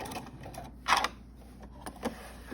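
A sewing machine runs a short back stitch on a fabric face mask, quiet intermittent mechanical clatter with a few brief louder bursts of stitching.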